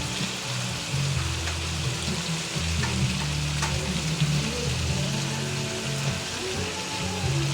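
Squid dropped into a hot pan already holding mussels gives a loud, steady, close sizzle and crackle of frying that runs on without a break.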